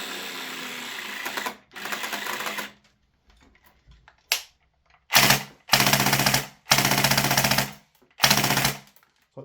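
A VFC M249 gas blowback airsoft gun fires loud, rapid mechanical bursts, about six strings of cycling clatter with pauses between them, while its BBs fail to feed.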